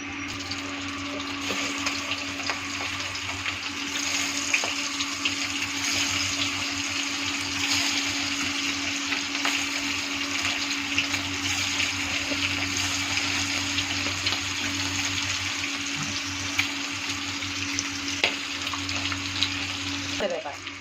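An egg, coated in salt and turmeric, fries in hot oil with a steady, continuous sizzle and crackle that lasts the whole stretch, fairly close and even in loudness, with a faint hum behind it.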